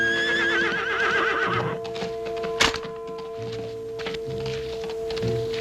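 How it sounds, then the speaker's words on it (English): A horse whinnies loudly, then a sharp thunk is followed by hooves clip-clopping in a steady rhythm that draws nearer as it approaches at a canter. "I say it's an horse coming up at a canter, Joe."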